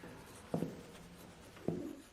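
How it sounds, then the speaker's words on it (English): Quiet scratching of pens on paper, two short scratchy strokes about a second apart against a soft hushed background. "The only sound was the scratching of pens on paper."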